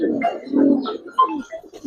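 Giribaz pigeons cooing inside a loft, several soft, overlapping low coos running steadily and close by, with a brief louder burst partway through.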